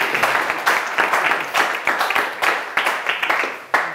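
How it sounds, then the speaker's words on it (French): An audience at a corporate keynote event claps in a short burst, individual claps distinct and rhythmic, moderately loud in a room. "on peut même les applaudir, Florence et Olivier"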